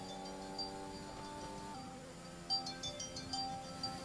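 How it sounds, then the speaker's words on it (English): A phone rings in a repeated electronic tone pattern, faint and in the background, with a few sharper ticking chirps toward the end. "the phone's going"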